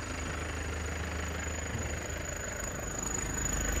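A 2007 Toyota Grand Touring with a manual gearbox and turbo engine running, giving a steady, close idle rumble with a faint even knock and no voices.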